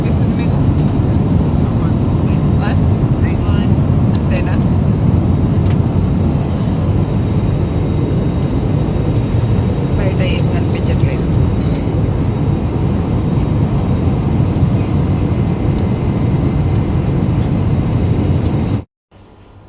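Constant low roar of an aircraft cabin in flight, a steady engine drone that continues throughout with faint talk underneath.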